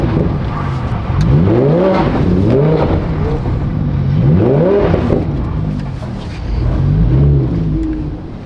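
Lamborghini 570 sports car engine revving hard in repeated rising and falling sweeps, loud and close, with brief pauses between bursts of acceleration.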